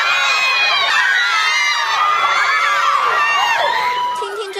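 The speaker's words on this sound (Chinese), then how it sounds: "听听这些尖叫声，又是哪位大牌偶像来台呀？" A large crowd of fans screams in sustained, high-pitched waves for the K-pop group Super Junior-M at a press event in Taiwan. The shrieks are loud and continuous, with overlapping squeals throughout.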